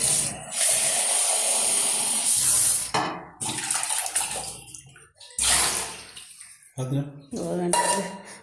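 Water runs from a tap while something is washed under it in a home kitchen, loud splashing in several bursts with short pauses between them.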